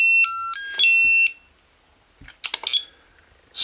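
A drone battery charger signals a finished charge with a quick series of loud electronic beeps at different pitches, followed by brief handling clatter and a later burst of noise.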